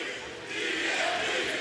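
A wrestling arena crowd in Nashville roars and shouts in a dense, sustained wall of cheering that swells slightly midway, heard from within the audience.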